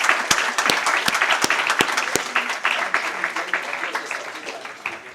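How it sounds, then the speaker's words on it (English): Audience at a global finance conclave breaking into loud, dense applause, a few crisp nearby claps at the start giving way to sustained clapping that slowly eases off. "huge round of applause"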